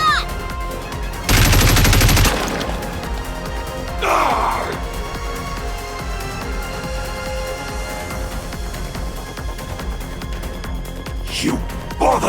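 In the Nikke game, a loud, rapid burst of automatic gunfire lasts about a second, then comes quieter game effects and brief voiced sounds such as gasps.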